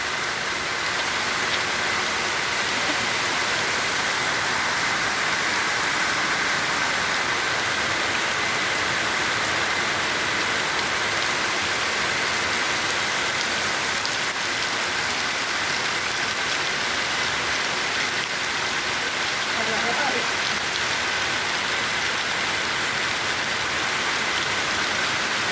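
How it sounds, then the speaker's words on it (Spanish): A heavy rain shower pours down over a village, a dense, steady hiss of rain striking surfaces that continues unbroken. "Así llueve acá en mi pueblo, el hermoso aguacero."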